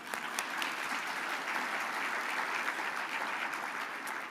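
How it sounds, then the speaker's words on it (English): Steady audience applause fills a hall at a civic awards ceremony, a dense, even wash of many hands clapping at moderate distance, holding unbroken for several seconds without any voices rising above it. "I think you can clap again for that."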